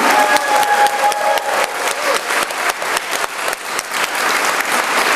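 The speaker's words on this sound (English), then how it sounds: "Let's give one last round of applause for all our speakers and the amazing work they're doing." Loud, close applause with some cheering from a crowd at a civil liberties rally, dense clapping throughout with a few sharp individual claps standing out.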